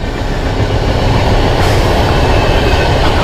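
A train rumbles past loudly on a railway line near Nedumbassery airport, a steady roar of wheels and carriages throughout.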